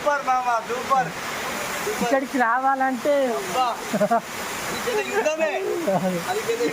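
A steady roar of the rushing Pilligundam waterfall in dense forest fills the background while people talk loudly over it, close by.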